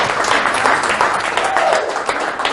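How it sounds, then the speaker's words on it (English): Audience applause welcoming a speaker at a motorcycle cornering talk, a dense burst of many hands clapping close by, loud and steady for a couple of seconds. "a round of applause here for Ken Condon"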